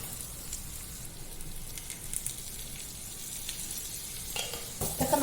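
Cumin, fenugreek and turmeric frying in oil for a tender jackfruit curry, a quiet steady sizzle and crackle with a few louder spits and stirring scrapes near the end.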